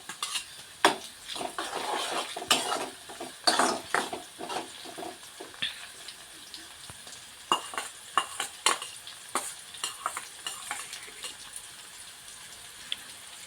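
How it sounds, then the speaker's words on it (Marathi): Onion and green chili sautéing in a pan, heard as a light sizzle broken by frequent sharp clinks and scrapes of a spoon stirring, close and fairly quiet, without talk. "आता कांदा चांगला परतून घेऊ।"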